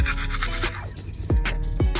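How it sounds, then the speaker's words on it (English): A toothbrush scrubs teeth inside a car, with quick rubbing strokes and a few louder scraping bursts near the end, close and alone. "Now we're gonna brush my teeth."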